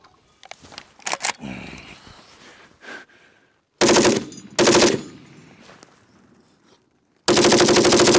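An AN-M2 machine gun fires long, loud bursts of rapid automatic fire, separated by pauses and quieter rustling and handling sounds between the volleys.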